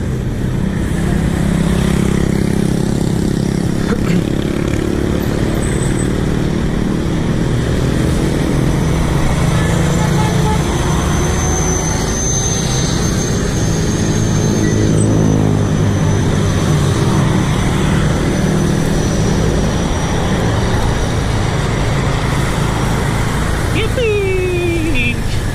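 Busy road traffic in Dasmariñas–Imus, Cavite, heard from a bicycle: a continuous dense roar of engines, motorcycles and vehicles close by, with a passing engine whine near the end, and faint talk under the noise.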